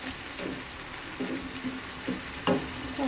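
Onion and chicken breast fry in a pan with a constant close sizzle, broken by a few brief stirring scrapes and louder bursts.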